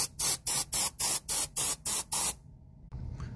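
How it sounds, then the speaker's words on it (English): A spray can lays a light-blocking coating onto an object in eight short, loud bursts, each hiss about a quarter second with brief gaps, then stops, leaving a faint background hum. "It could be sprayed on anything without destroying it."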